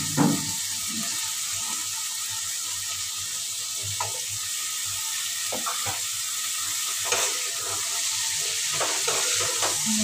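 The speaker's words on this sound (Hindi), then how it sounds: "अब मैं डालूंगी आलू, आलू भून के रखा मैंने" Pre-roasted potatoes frying in a pan for a potato and soybean curry, a soft steady sizzle with scattered spoon scrapes and stirring clinks, moderately quiet and close.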